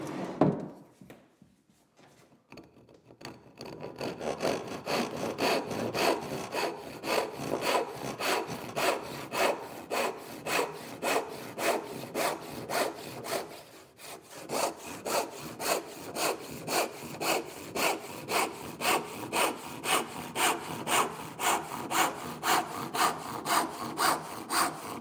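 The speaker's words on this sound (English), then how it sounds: "And now we're going to rip down this with a handsaw." A handsaw rips lengthwise down a wooden board held in a vise, steady back-and-forth strokes repeating in an even rhythm, close and clear, with a brief pause midway before the sawing resumes.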